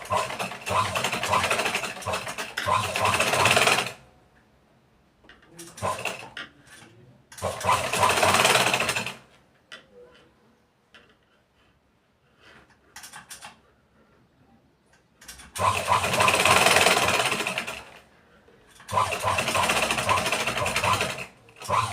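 Sewing machine stitching a prince-cut blouse with a double line of stitches, running in several loud bursts of a few seconds each, with quieter pauses between them.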